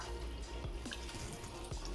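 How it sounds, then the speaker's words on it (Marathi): Water pours from a plate into a pot of fried mutton while cooking curry, giving a faint, steady liquid splash with a few soft drips. "आता ही पाणी ताटात ठेवलेलं आहे ती मी ह्याच्यात ओतणार आहे"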